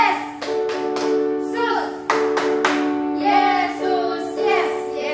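Children at a Sunday school service clap their hands in a rhythmic chant. Loud, bright claps fall in quick bursts under chanted and sung voices.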